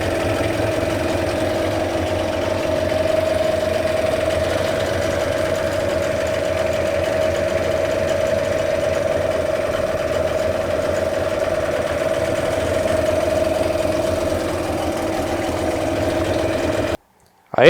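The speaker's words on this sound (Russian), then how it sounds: "А сейчас мы запустим этот лодочный мотор." A Chinese-made Yamaha-style outboard boat motor runs steadily with a constant droning hum and slight rhythmic rattle, holding at an even level for over fifteen seconds before stopping abruptly.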